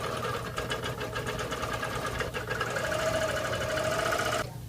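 A Bernina Q24 long arm quilting machine stitches in basting mode at four stitches per inch, a fast steady mechanical chatter with a whirring motor tone that stops abruptly near the end; close and fairly quiet.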